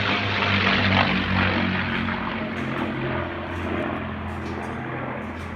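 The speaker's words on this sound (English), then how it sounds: "P-51 sneak pass over 400 miles an hour." A P-51 Mustang propeller fighter makes a high-speed low pass at an airshow, a loud sustained engine roar with a steady low drone that swells early and slowly fades, heard alone with no talk.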